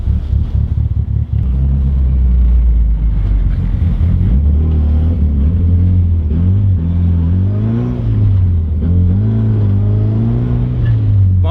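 A Mitsubishi Evo drives out of snow, with a loud, close engine rumble that revs and rises in pitch as the car accelerates, steady throughout with no talk.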